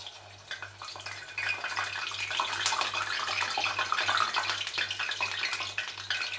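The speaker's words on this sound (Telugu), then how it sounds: "ఆయిల్ కూడా బాగా హీట్ అయిపోయింది ఇప్పుడు మనం బొండలాగా చేసుకొని వేసేసుకుందాము" Balls of batter made from leftover cooked rice drop into hot oil and fry, a close, continuous crackling sizzle that grows fuller after the first second and holds steady, with a faint low hum underneath.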